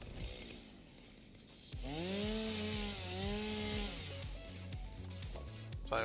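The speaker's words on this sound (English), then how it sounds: "Chainsaw, there you are." Chainsaw cutting down a tree in the game Satisfactory, a steady buzzing whine rising in pitch as the blade bites, sounding over looping game music, loud and close.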